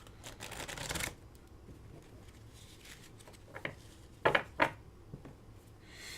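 Illimat playing cards being shuffled by hand, with a long riffle at the start followed by scattered taps and two sharp bridge snaps near the end, close and fairly quiet with no talk.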